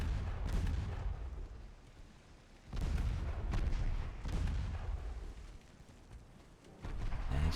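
Torpedo hits on a ship in the Ultimate Admiral: Dreadnoughts naval video game, several heavy rumbling booms, one at the start and a louder pair in the middle, rolling and distant-sounding.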